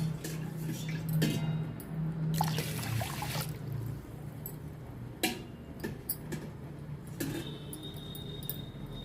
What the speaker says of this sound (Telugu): నీళ్ళు పోసుకోవాలండి